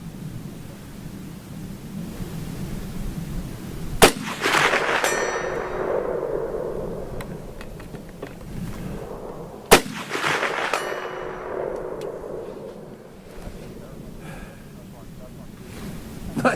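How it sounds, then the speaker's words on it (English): A Romanian M56 SKS rifle fires 125 grain bullets at a steel target roughly 240 yards away. Two sharp shots are each followed by a ringing, decaying clang, heard outdoors over steady background noise. "These 125 grain bullets actually swing that steel around pretty nicely."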